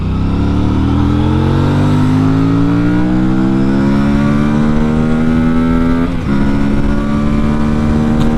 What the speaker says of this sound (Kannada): ಓಡ್ಸೋಕೆ ಒಳ್ಳೆ ಮಜಾ ಇದೆ ಗುರು ಗಾಡಿ ನೋಡಿ ಸೌಂಡ್ ಎಲ್ಲ ಸಕ್ಕದಾಗಿದೆ ಆ ಪವರ್ ಡೆಲಿವರಿ ನನಗೆ ಇಷ್ಟ ಅಪ್ರಿಲಿಯದು